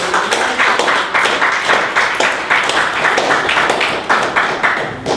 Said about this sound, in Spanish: Den un fuerte aplauso, Rey de Reyes.